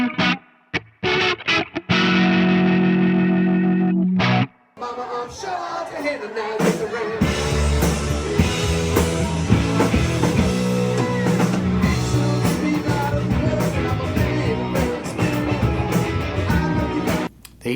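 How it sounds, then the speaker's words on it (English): An electric guitar runs through a pedalboard and switches to an organ-like effect: after a few short stabs and a sustained held chord, a dense, distorted full-band passage plays continuously at steady volume. "with one tap, I could go over to my organ sound"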